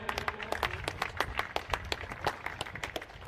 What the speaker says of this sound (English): Big applause for the guys who made a great show